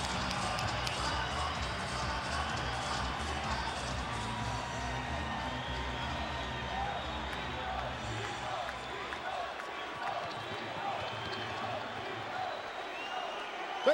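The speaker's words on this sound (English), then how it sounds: "the crowd responds as they see the fighter approach the ring" Large boxing arena crowd as the fighter approaches the ring for Trinidad vs De La Hoya in 1999, a continuous roar of cheering and whooping under a commentator's voice, steady and loud throughout.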